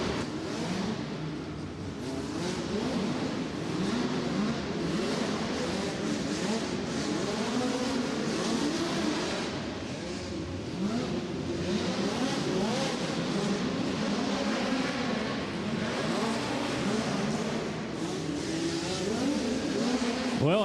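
USAC race cars lap the dirt oval at Du Quoin, a steady dense engine drone at moderate distance that swells slightly as cars pass, with commentators talking over it throughout.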